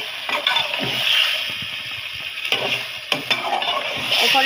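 Spices sizzle steadily in hot oil in a pan while a utensil stirs them, scraping and clinking in irregular strokes.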